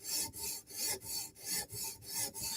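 Rhythmic rasping strokes of a 15V steel Spyderco Military 2 knife edge drawn across a diamond or CBN sharpening stone, about eight even back-and-forth passes, close and fairly quiet.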